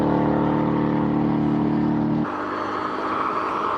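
A race car on a circuit, loud and close: a steady engine drone that suddenly drops in pitch and tone about two thirds through as the driver brakes hard, then continues rougher and lower.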